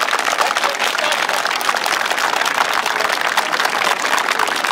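Outdoor audience applause following a brass band concert with majorettes by the river, a dense steady wash of many hands clapping at a fairly even level throughout.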